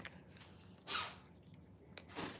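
A cat sneezes once, small and sharp, then a fainter snuffle follows, close by in an otherwise quiet room.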